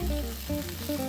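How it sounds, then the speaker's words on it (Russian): Herbs and garlic crackle and sizzle in hot oil in a frying pan beside a steak, a close, steady frying hiss with soft popping and no talking. "Трава сейчас будет трещать и ругаться"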